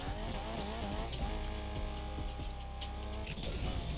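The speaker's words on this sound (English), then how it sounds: "Drifting on this game is hard, man." A car drifting in the Need for Speed Unbound racing game, its engine droning and shifting pitch under a continuous tire screech, loud and close, with layered game music or effects.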